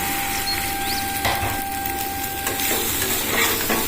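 Vegetables and macaroni fry in a pan with a loud, close sizzle, punctuated by scraping and stirring knocks from a utensil against the pan.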